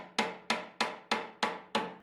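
A hammer drives a walnut shelf into tight dados with six evenly spaced, sharp knocks, each decaying quickly before the next.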